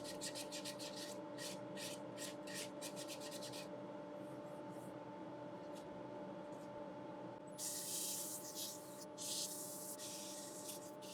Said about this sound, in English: So now, time for a bit of sanding.